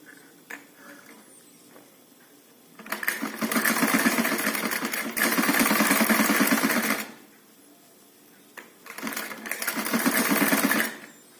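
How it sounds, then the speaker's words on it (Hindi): Sewing machine stitching piping onto a kurti neckline, running in two long loud bursts with a shorter run near the end, separated by quiet pauses. "अब हम इसके ऊपर मोटी सिलाई लगाएंगे ताकि ये अच्छे से"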